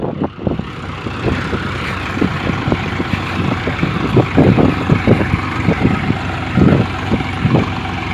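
Swaraj and Mahindra tractors race side by side, their diesel engines chugging loudly and close with an uneven, pulsing rumble that rises and falls throughout.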